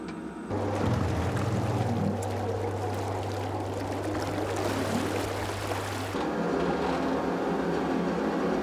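A low, steady mechanical hum of submarine engines runs for several seconds beneath a wash of rushing water as it submerges, then cuts to a quieter rumble.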